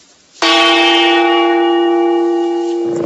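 A single gong strike rings out loud and clear, its bright metallic tone sustaining with a long, slowly fading shimmer.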